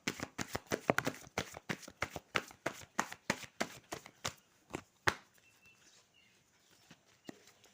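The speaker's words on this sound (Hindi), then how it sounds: "अब मैं आपके लिए कार्ड्स निकालती हूँ" Tarot cards are shuffled in a quick run of sharp, close riffling snaps for about five seconds, then a few softer taps as cards are drawn, with no talking.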